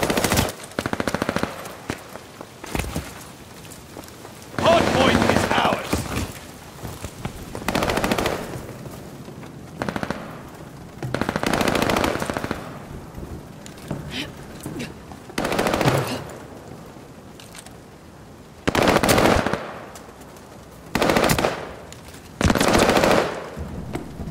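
Automatic weapons fire in Call of Duty: Vanguard during a hardpoint match comes in repeated loud bursts of rapid shots, separated by short lulls, across a long firefight.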